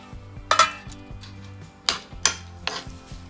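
A spoon stirs cooked cucumber into a mixture in a pot, with a few sharp clinks and scrapes against the metal spread over a few seconds, close and clear over a low background hum.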